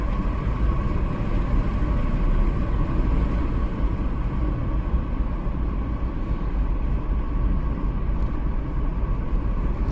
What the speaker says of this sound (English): Does have enough power to accelerate in fourth gear here, but it doesn't accelerate quickly.